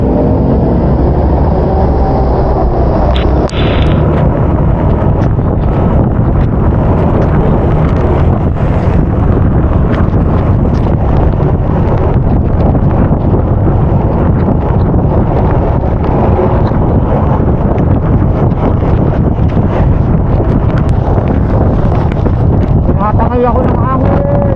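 Strong wind buffets the microphone while riding along a bypass near Tagaytay, a loud, continuous low roar and rumble that persists throughout with engine and road noise underneath.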